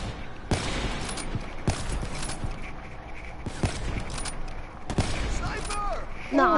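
Sharp, close sniper rifle shots crack out several times in a video game, separated by seconds, over a dense backdrop of game noise and chatter.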